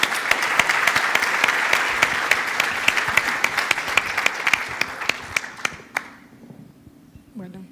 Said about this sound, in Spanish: La recibimos con un nuevo fuerte aplauso